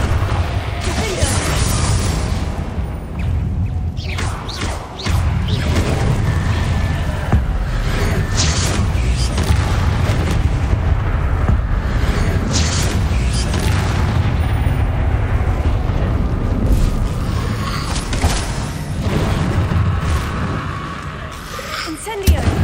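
Confringo blasting spells going off in the Hogwarts Legacy video game, a run of loud booming explosions and crashes packed closely together, with a player's voice speaking over the blasts.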